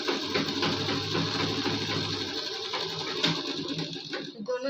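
A sewing machine stitches the side seam of a kurti, running in a close steady buzz for a couple of seconds before slowing and stopping, with light handling noises afterward.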